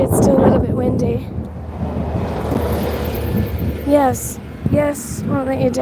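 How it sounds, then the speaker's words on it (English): Steady wind buffets the microphone outdoors in Dublin, Ireland, a low rumbling roar, with a person talking over it near the end. "Sorry, it's still a little bit windy."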